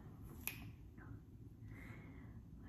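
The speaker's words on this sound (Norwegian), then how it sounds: "nå knipser jeg" A single sharp finger snap near the start, close and crisp, standing alone over a low steady room hum.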